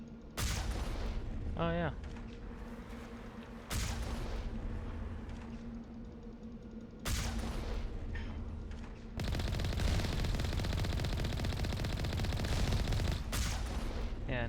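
Enemies shooting in the game Mass Effect, a steady stream of rapid gunfire bursts filling most of the stretch under a low hum, with a player briefly talking over it.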